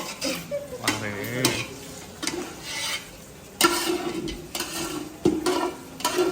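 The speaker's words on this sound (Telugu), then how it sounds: "కోకోనట్ రైస్ కలుపుతున్నాను" Coconut rice being mixed by hand in a large vessel for a temple puja offering, with repeated scraping, stirring and clinking of the utensil against the pot in irregular bursts.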